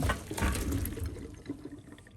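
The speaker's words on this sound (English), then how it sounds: "We're then going to drain the potatoes into the colander." Boiled potatoes and their hot water poured from a pan into a colander in a kitchen sink: a close, full gush and splatter that gradually thins out over a couple of seconds.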